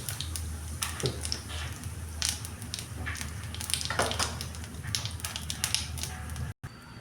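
Whole cumin seeds fry in hot oil in a wok, giving a steady crackling sizzle with frequent sharp pops and spits, close and fairly loud throughout, with a brief dropout near the end.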